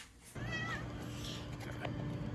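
A cat meows loudly and close by while being fed indoors, one drawn-out meow followed by a shorter call over a steady low hum.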